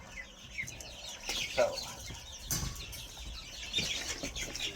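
Thirty-four chickens cluck and flutter in a coop, with steady close clucking and some wing flapping. A person speaks briefly and there are handling noises.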